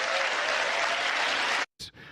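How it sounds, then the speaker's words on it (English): An audience at a press event breaks into dense, loud applause that holds steady, then stops abruptly, followed by a brief last burst. "They're essentially applauding themselves."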